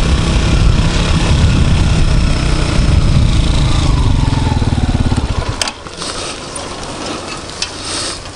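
A small Honda moped engine, overheated, idles with a steady, close, buzzing rattle for about five seconds, then cuts out, leaving quieter background noise with a few clicks.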